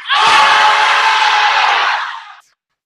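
An audience at a fitness club wellness workshop lets out one loud sustained collective scream lasting about two seconds, then cuts off into silence.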